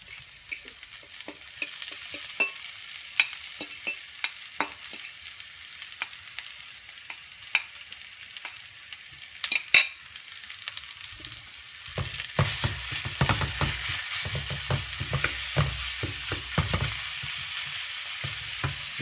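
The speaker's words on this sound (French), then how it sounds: "Je vais rajouter une quantité de viande hachée." Minced meat frying in a pan with caramelized onions, a steady close sizzle with scattered sharp crackles and spatula clicks, growing louder and denser in the final stretch.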